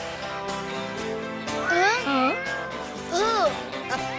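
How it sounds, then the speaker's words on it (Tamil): A cartoon kitten gives two drawn-out, high, wavering meows, close and clear over a busy music and effects bed. "அது நம்ம பூனைக்குட்டி தான்."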